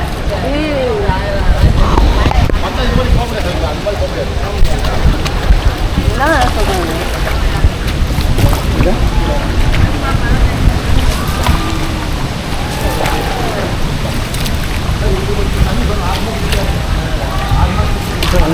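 The main waterfall at Hogenakkal Falls roars with a steady, dense rush of falling water that fills the whole scene, while people talk over it nearby.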